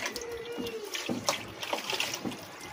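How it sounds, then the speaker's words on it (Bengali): Water poured into a container at home fills it with a trickling, splashing flow that rises and falls in short bursts, close by and moderately loud, with no talk over it. "এই যে জলটা ভরে দিলাম"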